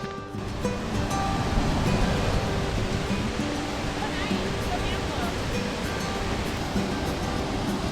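Waterfall chain of rapids on the Lady Evelyn River at the Golden Staircase, a dense continuous roar of rushing water, close and loud, with voices faintly underneath.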